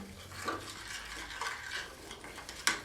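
Water being stirred into artificial snow material during a classroom science experiment, a soft continuous wet scraping and swishing at close range, ending in one sharper knock against the container.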